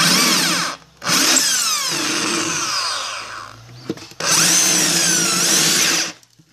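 A loud power drill whines at high speed while disassembling a spin dryer motor, stops briefly, runs again with pitch dipping under load, then cuts out and restarts for another steady burst.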